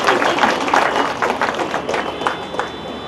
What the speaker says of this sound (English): may I take this opportunity to give you a warm round of applause